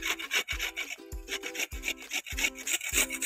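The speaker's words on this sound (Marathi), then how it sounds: "तर सर्व मी गाजर आता किसणीवर किसून घेणार आहे" Carrots are grated on a hand grater for carrot barfi, with rapid repeated rasping strokes at a steady rhythm, close and fairly loud, and no speech.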